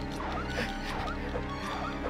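A dog barks and yelps in Resident Evil 1.5, sharp game-audio barks and a brief whimper sitting over a steady, loud backdrop of in-game music and noise.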